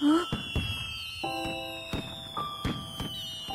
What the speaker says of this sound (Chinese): 哇，在放烟花哎！